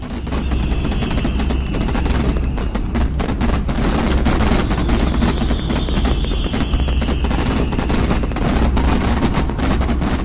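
About 7,000 fireworks set off at once in San Diego, a loud, dense barrage of crackling blasts and booms rolling on continuously without a pause, with a faint whistling tone drifting above the roar.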